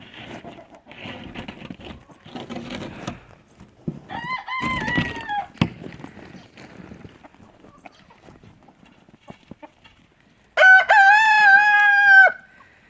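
Backyard chickens and a big hen making scattered soft clucks and rustling close by, followed by a loud rooster crow near the end; a person's voice is heard calling in between.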